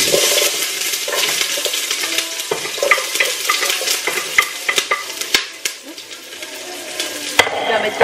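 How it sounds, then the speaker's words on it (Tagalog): Garlic, onion and ginger sautéed in olive oil are stirred into broth, with a bright sizzle and hiss and repeated light clinks of a utensil against the pot, close up with no talk. "So, ihalo ko siya sa broth."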